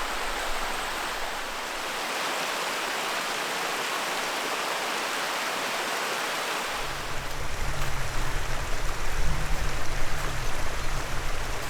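Steady broadband rush of a mountain stream in winter, continuous and fairly loud, with a deeper low rumble swelling in partway through.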